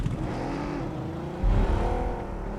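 A car's engine in the BGMI battle-royale video game whirs steadily, then surges louder and deeper partway through as it revs and accelerates.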